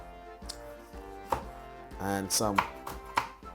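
Knife finely chopping spring onion on a board for a Jamaican fried saltfish recipe, sharp close taps in an irregular rhythm under a man's speech.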